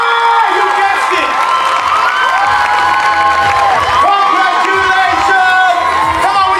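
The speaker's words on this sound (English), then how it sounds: "Make some noise! Will you clap for her?" An audience cheers, whoops and shouts for a junior academic award winner at a science expo event. The loud, continuous crowd noise fills the whole stretch, with excited children's voices prominent and an amplified host calling out over it.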